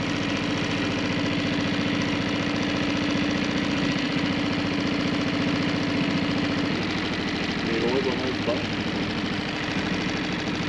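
A vehicle engine stuck on a forest trail drones and knocks steadily up close, its rough mid-pitched running continuous throughout while a voice speaks over it.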